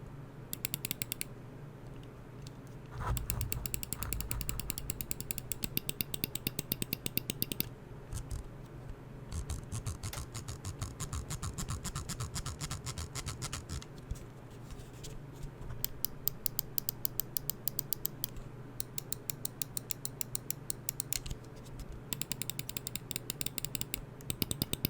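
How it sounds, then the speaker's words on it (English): An HSK Pro computer mouse clicks repeatedly in a test, crisp close button clicks arriving in fast bursts and steady runs over a low background hum, with no voices. "I will do a click sound test thing."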